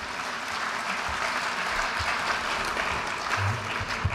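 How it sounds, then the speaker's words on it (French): Steady, dense applause from an audience at a French political gathering, with many hands clapping together at an even level throughout and no talk over it. "C'est bien, vous pouvez vous applaudir, vous êtes formidables."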